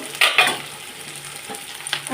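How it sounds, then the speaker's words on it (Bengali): Onions frying in oil are stirred in a pan. Two sharp scraping bursts come early, then a softer, low sizzle continues, close and fairly quiet, with no talking. "এখন এই যে পেঁয়াজটা ভালো করে ভেজে নেবো তার জন্য তেল লাগলো"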